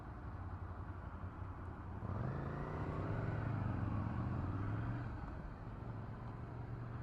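A Ducati Scrambler motorcycle engine rides at low speed: a steady rumble that swells into a louder, rising rev in the middle before easing back off, heard alone without talk.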